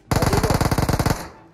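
A rapid burst of automatic gunfire from a PUBG match, about a dozen evenly spaced loud shots fired in one quick string, then a short fading tail.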